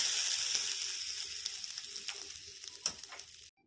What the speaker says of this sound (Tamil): மிளகாயம் போட்டுக்கிறேன். வெங்காயம் போட்டுக்கலாம்.